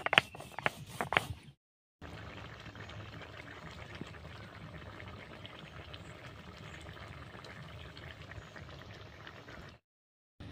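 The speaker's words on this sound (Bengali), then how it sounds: "আমি ততক্ষণে কাজু আর পোস্তটা বেটে নিচ্ছি।" After a few clattering knocks, a grinder whirs steadily for about eight seconds while grinding cashews and poppy seeds into paste for a sour prawn curry, then stops, with no talking.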